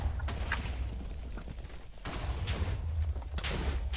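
TNT blocks exploding in a Minecraft-style game during a team TNT duel, heard as a dense, continuous barrage of overlapping booms and blasts with no talking.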